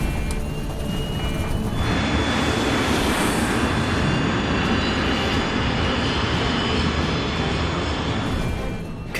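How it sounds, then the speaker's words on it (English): Aircraft engines roar loud and steady through the cabin of an airliner in flight, a dense continuous drone with a high whine running on top, and no speech. "Captain Fuchs can barely control the plane."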